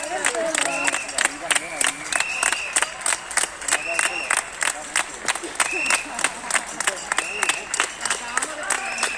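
Neighbours on their balconies applaud hospital staff at Hospital Sant Joan de Déu in Martorell, Barcelona: steady, dense clapping from many hands across a courtyard, with scattered cheers and voices mixed in throughout.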